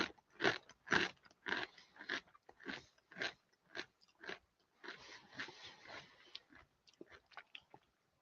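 Doritos smoked nacho cheese corn sticks are bitten and chewed close to the mic, a quick series of sharp dry crunches that settles into softer, rapid chewing crackles, with no talking.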